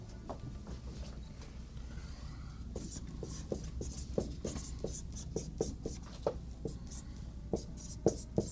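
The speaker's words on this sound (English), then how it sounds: "here's a simple word picture I'd like you to draw on your paper." Pen scratching across paper in a steady run of short strokes and taps, close and fairly quiet, with a low background hum and no voices.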